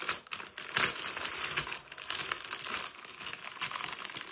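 Crinkling plastic packaging being handled and pulled open, a steady busy crackle of wrapping with sharper tearing bursts, close and moderately loud, with no talking.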